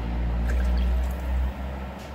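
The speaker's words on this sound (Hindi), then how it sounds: "अब हम इसमें ऐड करेंगे पानी।" Water is poured into fried biryani masala in a cooking pot, a close, continuous gushing splash that eases off briefly near the end.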